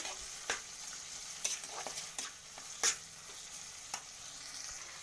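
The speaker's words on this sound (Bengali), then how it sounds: "এটাকে এবার ভালো করে কষিয়ে নেব" Ginger paste frying with turmeric and chilli powder in a pan for a Bengali dish: a steady close sizzle broken by irregular scraping strokes of a spatula, with no voices.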